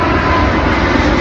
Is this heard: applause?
no